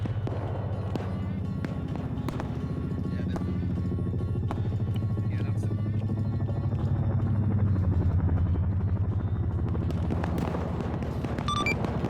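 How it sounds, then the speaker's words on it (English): A helicopter in a military video game approaches as a steady low rotor drone that swells slightly, with faint distant gunfire-like pops scattered throughout. "You can start faintly hearing that chopper coming in."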